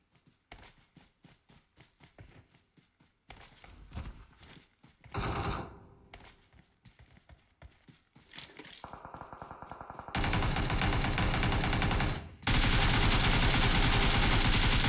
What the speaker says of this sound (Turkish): Tepede bir silah sesleri var.